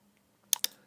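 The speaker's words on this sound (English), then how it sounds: "now when I'm pressing letters on my keyboard" Two quick keystrokes on a computer keyboard, crisp separate clicks close by in an otherwise quiet room.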